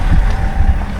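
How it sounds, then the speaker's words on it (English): Wind gusts across an open lake in the early morning on a bass-fishing outing, a loud, rumbling low rush buffeting the microphone throughout. "Wind's already blowing, so that's exciting."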